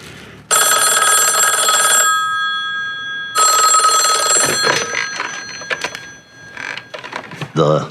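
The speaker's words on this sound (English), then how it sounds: "And then the guy conveniently gets a phone call." An old-fashioned telephone bell rings loudly in two long trills, followed by clattering and a voice speaking.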